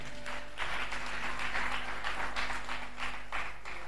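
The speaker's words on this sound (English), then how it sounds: "Clap hands to the Lord." A church congregation claps hands to the Lord during a sermon, a sustained wash of clapping with rhythmic swells, moderately loud and mostly without talk.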